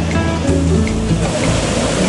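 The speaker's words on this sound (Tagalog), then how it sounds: "Ito yung tubig galing sa may Tamaraw Falls. Medyo malakas nga yung agos." Rushing water at Tamaraw Falls in Puerto Galera roars steadily, a loud, continuous, close wash of spray and flow with no break.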